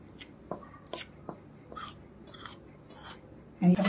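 A spoon clinks and scrapes against a bowl while garlic paratha ingredients are mixed, in a few light, spaced taps and short rubbing strokes, ending in a louder clatter.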